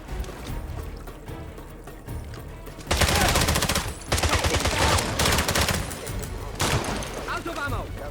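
Rapid bursts of gunfire in the James Bond 007: Blood Stone video game, loud dense volleys in three stretches that cut in and out over a steady background din.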